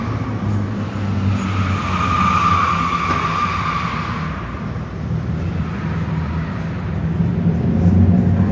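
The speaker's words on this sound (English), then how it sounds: "I want you to notice how much louder the Scat Pack version was than the RT version." Dodge Scat Pack and R/T cars drive past loudly at the New York International Auto Show, a continuous rumbling engine roar that swells midway and rises again near the end, with no talk over it.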